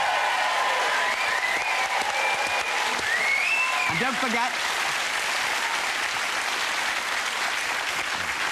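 A TV show studio audience applauds a guest with sustained loud clapping and crowd noise, while a host speaks briefly over it.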